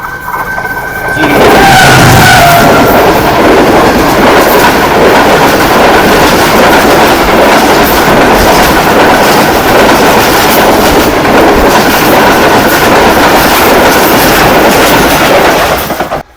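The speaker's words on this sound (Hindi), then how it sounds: "Here it comes 9 up Allama Iqbal express Karachi to Sialkot." The 9 Up Allama Iqbal Express from Karachi to Sialkot, led by locomotive GU 49008, roars past close by in a loud, steady rush of wheels and clattering carriages that lasts throughout, with a brief tonal whine near the start.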